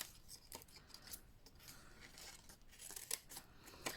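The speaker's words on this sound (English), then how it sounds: "if I take some scissors and just remove these excess pieces." Scissors snip through paper in a series of quiet, crisp cuts, with small rustles between them and no voices.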